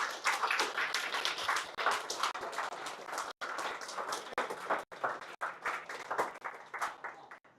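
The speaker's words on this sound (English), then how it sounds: "can I please, as per usual, have a round of applause for all of our referees" A crowd applauds the referees at the finals of a laser tag championship on the Sunshine Coast, with dense, sustained clapping for about seven seconds, close and lively, with a few brief gaps.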